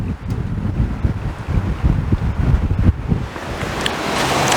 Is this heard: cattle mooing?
no